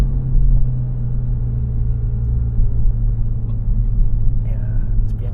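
Mini JCW automatic in S mode, heard as a loud, steady low exhaust rumble from inside the cabin, with no distinct pops standing out.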